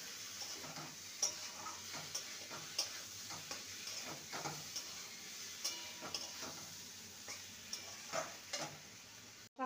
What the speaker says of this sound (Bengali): তার সাথে সমস্ত কিছু ভালো মতন কষিয়ে নিয়েছি